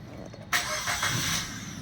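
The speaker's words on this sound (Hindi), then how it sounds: "गाड़ी शुरू हो चुकी है।" A Maruti Swift Dzire fitted with a CNG kit starts up, its engine catching with a sudden loud burst after a short quiet moment and then settling into a steady, close running idle.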